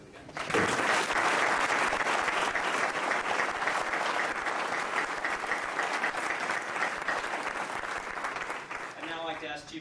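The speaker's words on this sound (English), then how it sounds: "A round of applause, please, for the guys." Applause fills the room at a military retirement ceremony, with a crowd clapping steadily and loudly for nearly ten seconds. Near the end the clapping thins and a voice begins speaking.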